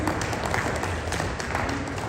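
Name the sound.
applause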